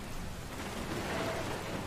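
A rainstorm with thunder in Dragon Quest Builders 2, steady heavy rain roaring evenly throughout with a low rumbling undertone and no talking.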